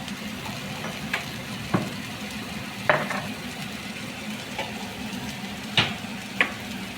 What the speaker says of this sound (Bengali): এই যে গাঠিটা ঢেলে দেওয়া হলো, এটা একটু ভাজা ভাজা হবে